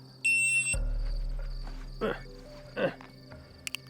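A shot timer sounds a sharp electronic beep for a pocket pistol drill, followed by two close, loud pistol shots about a second apart, with a faint hum in the background.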